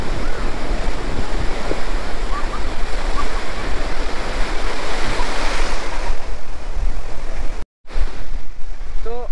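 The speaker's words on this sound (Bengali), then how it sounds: "দেখুন প্রচুর ঢেউ, পুরীর সমুদ্রের যে ঢেউ, দীঘার ঢেউ অনেক তফাৎ, অনেক বড় বড় ঢেউ দেখুন।" Big ocean waves crash at Puri beach, a loud, continuous roar of surf mixed with wind buffeting the microphone, with a brief dropout near the end.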